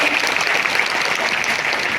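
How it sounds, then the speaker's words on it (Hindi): Audience at a women's development centre event in Torpa applauds in a dense, steady wash of clapping that holds evenly throughout, with no break. "एक बार जोरदार तालियां हो जाए"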